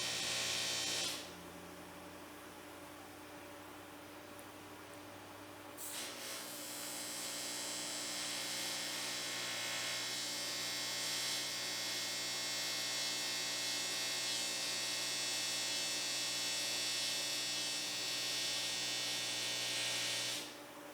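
A TIG welder runs while seams on a custom greenhouse frame are welded, giving a steady, loud electric buzz and hiss that drops briefly and then resumes and holds unbroken.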